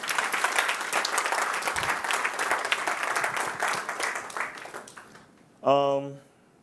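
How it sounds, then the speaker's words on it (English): A summit keynote audience applauding in a sustained burst of clapping that fades out after about five seconds, followed by a brief voice speaking. "Can we give them a round of applause, please?"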